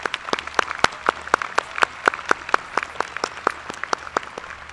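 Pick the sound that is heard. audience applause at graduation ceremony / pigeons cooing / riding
audience applause at graduation ceremony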